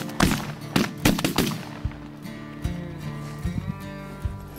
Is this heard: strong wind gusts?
no